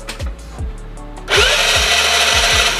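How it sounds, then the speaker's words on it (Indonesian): Electric starter on a Vespa LX 125 scooter with a stalled carburetor, first a rhythmic whirring crank with repeated pulses, then a louder steady buzzing grind, while the engine never catches. "Sekarang kita coba starter."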